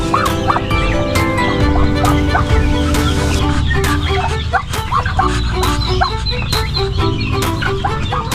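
Poultry calls fill the air, with turkeys gobbling and clucking repeatedly among other fowl, loud and close.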